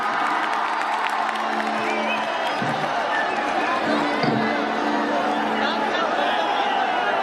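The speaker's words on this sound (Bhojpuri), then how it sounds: "ताली बजा के आशीर्वाद दीजिए" Dense crowd noise with clapping and cheers rises throughout a Bhojpuri stage show in Bardhaman, steady and loud, with a voice and some tonal music audible in the mix.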